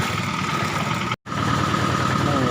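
A tractor engine idles steadily during a flood while a washing machine is loaded onto it, giving a continuous mid-pitched rumble with a faint knock and a brief dropout partway through.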